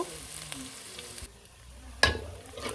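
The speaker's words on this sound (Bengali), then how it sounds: "এখন পেঁয়াজ রসুনগুলো ভালো করে কষিয়ে বাদামি কালার করে নিব" Onion and garlic sizzle and fry in a pan as they brown, a steady close crackle that briefly softens before a sharp clatter of stirring bursts in and the sizzling returns.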